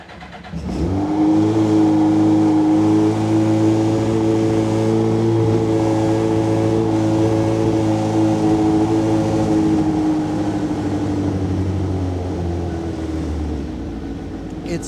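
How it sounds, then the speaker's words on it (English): A cold car engine cranks briefly, fires up, and holds a loud, steady, high idle that eases slightly over several seconds, heard close by. "you hear this as soon as I will crank up the engine"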